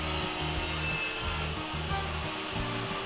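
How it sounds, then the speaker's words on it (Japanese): A metal part for a motorcycle muffler stay is being cut out by hand in a home workshop, giving steady, rhythmic back-and-forth sawing strokes close to the microphone with no talking. "こっちではもう一つパーツを切り出し中。"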